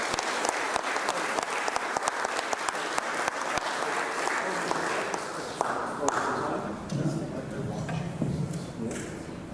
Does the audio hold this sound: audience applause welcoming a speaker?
yes